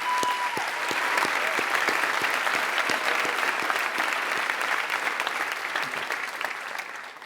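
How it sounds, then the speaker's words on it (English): Steady, dense applause from a large audience at the 2015 Stanford Graduate School of Business diploma ceremony, continuous clapping that holds for several seconds and fades slightly at the end, with no voices over it. "Please join me in a round of applause"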